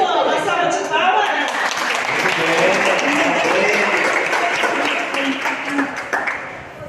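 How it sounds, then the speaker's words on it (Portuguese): A church congregation at an Adventist service bursts into loud applause that swells and holds steady, mixed with voices and cheers, then tapers off near the end. "uma salva de palmas"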